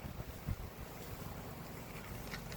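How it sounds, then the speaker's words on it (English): Steady wind rushing and buffeting a microphone outdoors in Miramichi, a low broadband roar with a brief gust thump, no voices. "It's a little windy, eh?"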